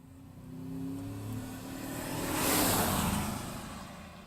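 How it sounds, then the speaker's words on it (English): Cars driving past a parked truck on a road, engines swelling and fading as they pass, with one louder rushing pass building to a peak before trailing off. "As the gas guzzlers guzzle on by."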